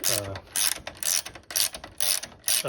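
Ratchet turning a nut during a motorcycle Öhlins suspension install on a Speed Twin: quick rapid clicking bursts in short repeated strokes, close and crisp, with brief pauses between pulls.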